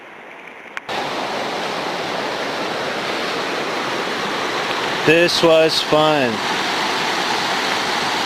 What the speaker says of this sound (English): The river swelled up a bit.